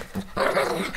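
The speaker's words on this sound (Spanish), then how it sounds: "por acá tengo una grabación que hice de mi perro jugando con una pelota" A dog playing with a ball makes close, growly vocal bursts: a short grumble, then a longer, louder stretch of rough growling with no talking.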